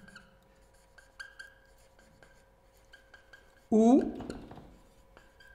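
Writing on a classroom board: short scratchy strokes and light taps at a fairly quiet level, under a teacher's speech that breaks in with a louder burst near the end.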